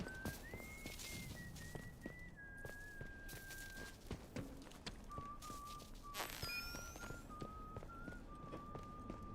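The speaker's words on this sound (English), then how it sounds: "I hear more people whistling." Whistled tunes from people in the video game Atomfall drift over a quiet outdoor soundscape, several long wavering melodic lines at moderate distance, broken by soft footstep-like taps and a brief brighter burst near the middle.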